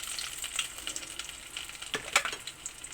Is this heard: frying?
yes